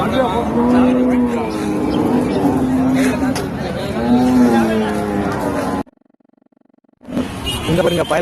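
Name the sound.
cart bulls mooing at the Manapparai cattle market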